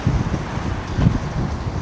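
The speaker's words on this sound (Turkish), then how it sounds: "Aşırı bir rüzgar var şu an" Strong wind buffets the microphone, producing a steady low rumble with gusting thumps throughout.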